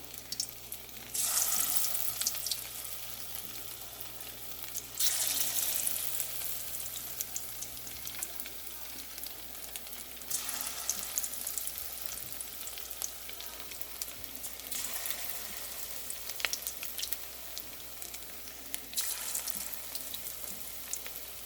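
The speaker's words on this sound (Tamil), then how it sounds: "நான் இப்போ இந்த மசாலா இல்லை துவைச்சிருக்கிற பன்னீரை பொறிக்க போகிறேன்" Paneer pieces fry in hot oil for paneer 65 with a continuous sizzle. Louder hissing bursts come every few seconds as pieces are dropped in or moved, with no voices.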